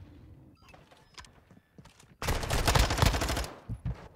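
Modern Warfare 2 ranked gunfire, a quiet patter of distant shots that gives way to a loud, close burst of rapid automatic fire lasting about a second, then brief trailing impacts, with no talk.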